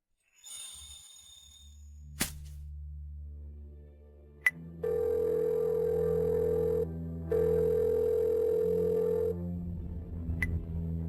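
Unanswered telephone call tones: a few tones and clicks, then a loud, steady ringback tone in two long bursts separated by a brief gap, followed by a click and faint rustling.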